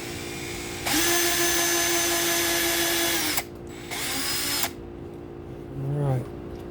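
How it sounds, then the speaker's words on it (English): A power drill bores 5/64-inch holes for an L bracket in short, loud whirring bursts of about two and a half seconds and one second, each spinning up and then down, with a brief lower whine near the end. "drill those holes out with 5/64. So I'll go ahead and do that before I put any screws in"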